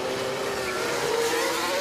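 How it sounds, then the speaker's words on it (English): Formula 1 car in F1 Manager 24 racing past with a high, sustained engine whine that holds steady and climbs slightly, loud and continuous. "I'm going to rev my engine as I go past."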